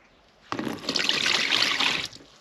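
Water poured into a fishing groundbait mix with corn, a short close splash and trickle of about a second and a half, with no talk.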